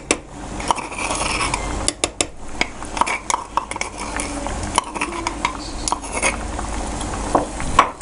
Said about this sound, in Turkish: İyice karıştırıyoruz.